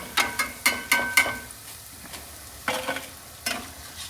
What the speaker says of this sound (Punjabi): ਪਕੌੜੇ ਦੋ ਵਾਰ ਫਰਾਈ ਕਰਨ ਦੇ ਵਿੱਚ ਨਾ ਫਿਰ ਐ ਚੰਗੀ ਤਰ੍ਹਾਂ ਪੱਕ ਜਾਂਦੇ ਨੇ ਪਕੌੜੇ